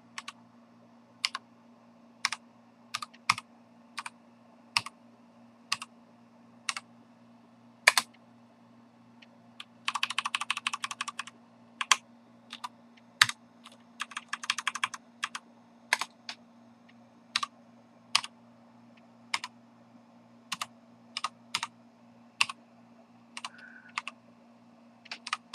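Computer keys are struck one at a time in sparse, irregular clicks, with a couple of short rapid bursts in the middle, close and clear in a quiet room.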